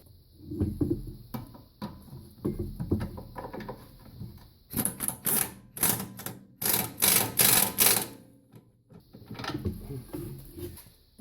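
A ratchet tightens the bottom 11/16 bolt on a Nissan Sentra rear shock, giving several bursts of rapid, loud clicking strokes in the middle of the clip, with quieter clunks and handling before and after.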